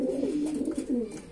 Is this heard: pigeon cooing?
yes